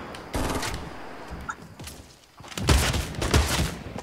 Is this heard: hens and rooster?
no